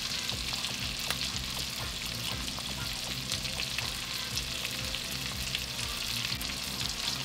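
Chunks of beef browning in a pot for beef bourguignon, a steady close sizzle with crackling pops throughout and no talk.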